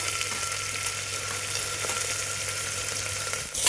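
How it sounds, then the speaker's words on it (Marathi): Chopped onion frying in a pan with cinnamon, clove, black pepper and star anise for mutton paya soup, a steady close sizzle that runs unbroken before a brief clatter at the end. "आता कांदा चांगला भाजून घ्यायचा"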